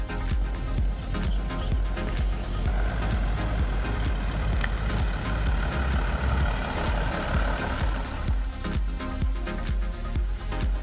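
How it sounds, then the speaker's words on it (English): An Audi Q7 engine runs smoothly while driving, a steady low drone with road noise that stays even and constant throughout. "Even when caning the motor to redline, the engine doesn't sound rough and is exceptionally smooth at cruising speeds"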